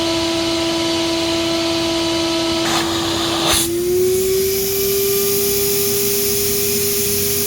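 A Black and Decker CA1440 handheld vacuum runs with its hose attached, a loud steady whine that briefly drops with a rough rushing burst midway before the pitch rises slightly and holds, close and with no talking.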